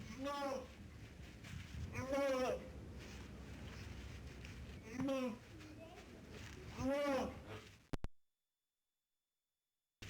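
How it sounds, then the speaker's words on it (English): A baby gnu calls with a few short, moaning moo-like bleats outside a zoo nursery, separated by pauses, with faint footsteps and distant children in the background. "This baby Gnu is mooing at some children outside the nursery."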